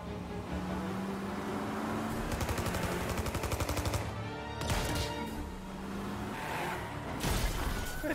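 Gunfire in the video game Mafia Definitive Edition, rapid machine-gun bursts of evenly spaced shots over a car engine drone, with crashes and glass shattering between volleys, loud and close.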